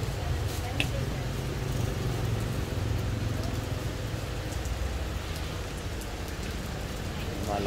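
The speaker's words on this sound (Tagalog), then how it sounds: "malakas yung ulan" Heavy rain pours steadily on a road in Cebu, a dense even hiss with low rumbling from passing cars throughout, a voice faintly present beneath the downpour.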